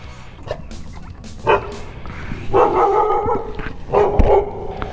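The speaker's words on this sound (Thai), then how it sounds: "มันเห่านะครับนะ" A dog barks outdoors on a wet morning after rain, a few sharp barks and yips spaced across the moment, fairly close, over a faint background hum.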